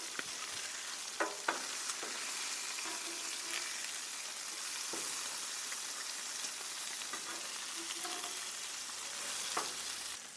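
Sausages and bacon frying on a flat iron griddle, a continuous close sizzle with a few sharp clicks and scrapes of turning meat.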